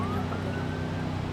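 Police car siren in the BeamNG driving game, a rising wail heard fairly faintly over a steady low engine rumble, continuous throughout.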